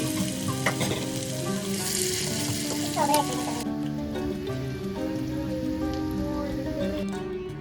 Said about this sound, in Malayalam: അപ്പോൾ ധൃതിയായിട്ട് സ്നാക്സൊക്കെ ഫ്രൈ ചെയ്തുകൊണ്ടിരിക്കുകയാണ്